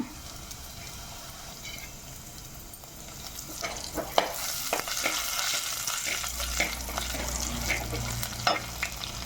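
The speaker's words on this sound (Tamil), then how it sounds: "இப்போ நம்ம இடித்து வச்சுருக்க மிளகு ஜீரகம் பூண்டு சேர்த்துக்கலாம்" Crushed pepper, cumin and garlic fry in oil in a clay pot, a steady sizzle with scattered crackles and stirring scrapes, growing busier toward the end, with a low rumble joining near the close.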